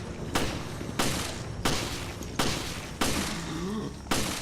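Gunshots in the video game Resident Evil: Revelations, six loud, sharp blasts spaced roughly half a second to a second apart, each with a short decaying tail over a noisy background, no talk.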